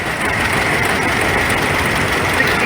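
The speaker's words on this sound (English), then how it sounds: "1953 John Deere Model 60" A 1953 John Deere Model 60 tractor rolling past in an old engine show parade, with a steady, loud engine drone and a rumble that holds evenly throughout, up close.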